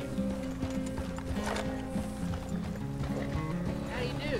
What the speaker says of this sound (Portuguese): Esse é o nosso novo cavalo, o Dutch Warm Blood, holandês de sangue quente.